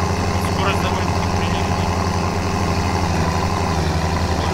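A tractor engine drives steadily in BeamNG, a low, even mechanical hum with a constant drone and no pauses, while someone talks over it.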